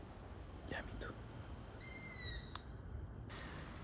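Faint calls from five or six owls sound together over a quiet outdoor hiss in Crete, including a brief tonal, harmonic cry in the middle, with a few soft scattered notes around it.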